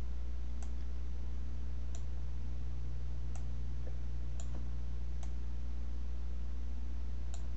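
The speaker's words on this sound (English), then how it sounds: "all I'm doing is just clicking and dragging" A computer mouse gives sharp, isolated clicks at irregular intervals of about a second or more while someone drags in ZBrush. The clicks sit over a steady low electrical hum.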